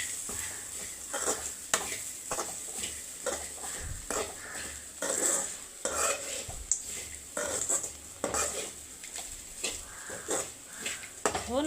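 Purple cabbage stir-fry being stirred in a pan, repeated spatula scrapes and knocks over a soft continuous sizzle, close and moderately loud.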